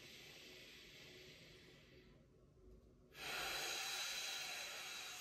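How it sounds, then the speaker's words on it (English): A strong exhale through the mouth during a supine breathing exercise with scapula protraction, pushed out as if blowing through a straw; a brief quiet gap gives way to a loud, close, sustained airy rush of breath. "this strong exhale through the mouth, almost imagining like you're blowing through a straw"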